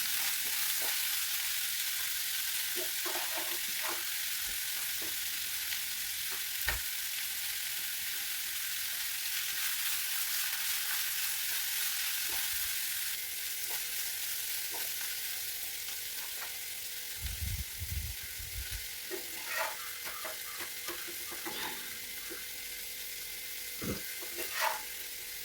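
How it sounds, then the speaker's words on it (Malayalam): Onions for a roast frying in a pan, a continuous loud sizzle close up with occasional stirring clinks and scrapes, no talk. "റോസ്റ്റിനുള്ള ഉള്ളി ഇട്ട് ഒന്ന് ശരിയാക്കി എടുക്കുക"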